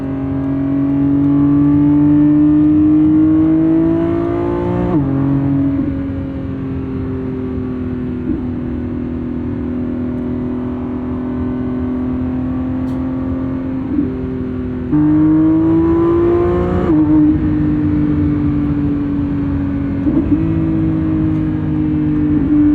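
A 2025 Lamborghini Revuelto with its 1,001 hp V12 accelerates on a highway, the engine note climbing through gears in loud rising sweeps with brief dips at each shift, close and dominant throughout.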